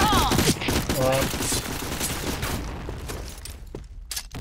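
Video game combat with a grenade explosion and gunfire, a dense burst of loud shots and a booming blast that fades into a rumbling tail, with talk mixed in.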